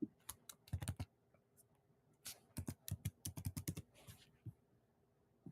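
Rapid clicking of keys on a computer keyboard, typed in two quick bursts separated by a short pause, close and fairly quiet with no talking.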